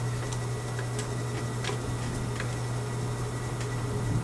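A sewing machine makes a slow stitch: a constant motor hum runs under soft, evenly spaced mechanical ticks from the needle, close by and with no one speaking.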